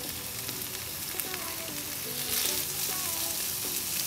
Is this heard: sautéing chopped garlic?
yes